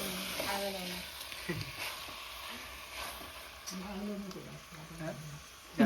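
Chicken sizzling in a spiced oil tempering in a pan, a faint low frying hiss running steadily beneath intermittent talk nearby.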